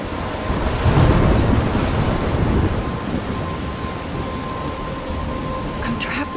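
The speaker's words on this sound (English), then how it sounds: "I'm trapped in a storm?" A thunderstorm rages in the video game Life is Strange: dense, loud rain and a deep rolling rumble of thunder swell early and then settle into a steady downpour.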